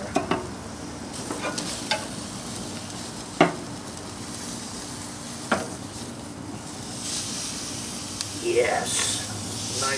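Pork tenderloin sears on a smoker grill with a soft, steady sizzle and hiss, punctuated by a few sharp clicks and scrapes, and a brief voice near the end.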